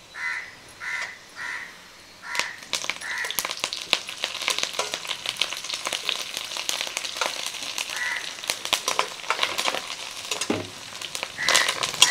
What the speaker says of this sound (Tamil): நல்லா வெங்காயம் செவந்துருச்சு. இப்போ கருவேப்பிலை போட்டுருவோம்.